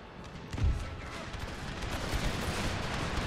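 Musket and pistol volleys crackle in a Total War Pike and Shot battle between Spain and France, a dull thump followed by a steady patter of distant shots under a faint battlefield hum.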